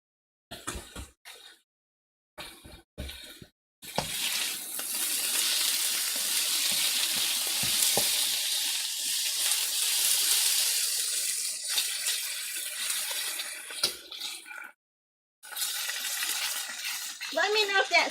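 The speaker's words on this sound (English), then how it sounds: "Let me know if that sizzling gets too much for you." A pan of honey glazed chicken stir fry sizzles loudly and steadily for over ten seconds. Short clinks and pauses come before the long hiss, and a brief break interrupts it near the end.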